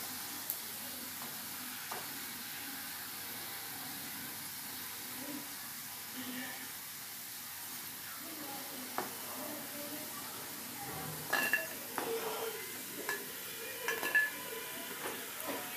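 Shakkar pare fry in hot oil with a low, steady sizzle, while a metal utensil clinks against the pan now and then, more often toward the end.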